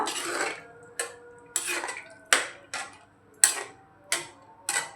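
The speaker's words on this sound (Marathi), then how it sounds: "आणि छान मिक्स करून घेऊया" A spoon stirs small brinjal curry with added water in a pot, giving about eight sharp scraping, clinking strokes at a steady, unhurried rhythm, close and clear with no talking.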